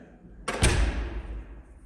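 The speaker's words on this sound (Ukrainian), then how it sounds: "виходжу повністю в темний коридор і закриваю, зачиняю двері" A door is pulled shut into a dark corridor, giving one sharp thud followed by a short low rumble and fading reverberation, close and fairly loud.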